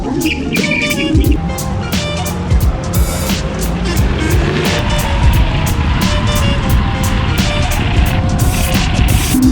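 A compact two-wheeled scooter launches hard off the line, its motor whine rising in pitch under broad road and wind roar, loud and close throughout.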